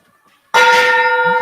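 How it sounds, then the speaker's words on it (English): Gong struck once, a sudden loud metallic clang that rings on with a sustained, steady tone. "The gong has rung."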